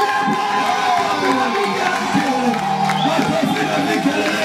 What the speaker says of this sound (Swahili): Makofi na vigelegele kwa Bwana.